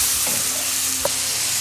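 Chicken cooking on low heat in a pan gives off a steady, soft sizzle with a faint hum beneath, broken by a couple of light scrapes and one brief clink near the end.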